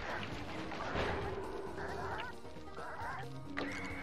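Squawking, clucking chickens carrying bombs in the PS3 game Sly Raccoon, a few bird calls over a busy game soundtrack with thumps and effects.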